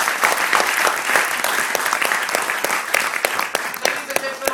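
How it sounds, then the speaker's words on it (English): An audience applauds the parents at a launch event with dense, sustained clapping that fills the room, and faint voices mix in underneath. "applause for the parents"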